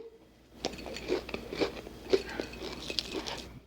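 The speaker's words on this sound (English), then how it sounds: "So when you bite it, we're hearing you're gonna hear the crunch." Close crunching bites and chewing of crispy Korean fried chicken, a few crisp crackles in quick succession over a quiet background.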